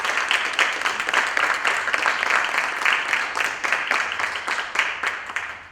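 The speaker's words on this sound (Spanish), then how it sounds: "les pido un aplauso para darle la bienvenida" An audience at a book presentation applauds to welcome an author launching a first short-story collection, with steady, dense clapping from many hands held at an even level throughout.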